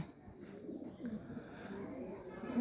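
A racing pigeon, back home after going missing for about nine months, coos in low soft murmurs under steady background noise, fairly quiet and close.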